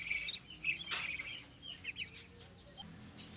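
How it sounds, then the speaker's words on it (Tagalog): Growing ducklings near a homemade egg incubator, raised with chickens, chirp in quick high peeps, fairly faint and close, with a few louder calls and no talking. "Malalaki na rin yung mga ducklings to."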